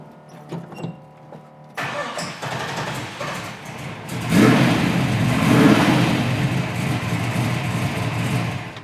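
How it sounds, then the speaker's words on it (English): A 1968 Camaro engine cold-starts after a few clicks and brief cranking, catching and settling into a loud, rough idle that swells into steady revving, close up with no talking. "It's a cold start this morning."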